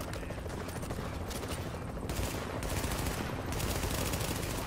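Sustained gunfire in the video game Tom Clancy's The Division 2, a dense, steady barrage of automatic shots and bursts lasting throughout, loud and close with no talking over it.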